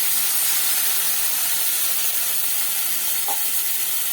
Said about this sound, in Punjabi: ਇਹ ਦੇਖੋ ਪੱਧਾ ਖਲਾਸ ਪਾਣੀ ਦਾ ਪਾ ਦਿਆਂਗੇ ਇਹਦੇ ਵਿੱਚ